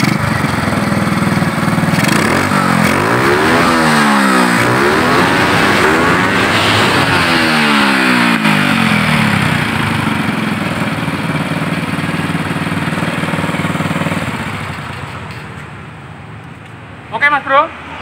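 A small motorcycle engine runs at a steady mid-pitched idle after a carburetor adjustment on a bike that stalls suddenly, loud and close, then fades and cuts out near the end, with some talk over it.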